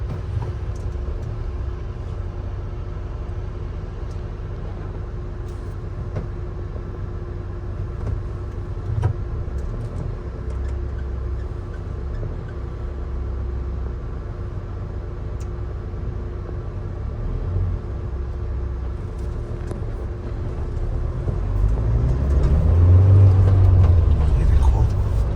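A Mahindra Thar engine drones steadily in second gear while driving, a low rumble inside the cabin that swells louder near the end as the engine pulls harder.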